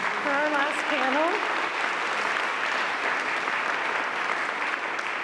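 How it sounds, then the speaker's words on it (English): A large audience claps steadily for the last panel at a Justice Department event marking the 25th anniversary of the Olmstead decision, with a brief voice audible at the start. "If everyone could give a round of applause for our last panel."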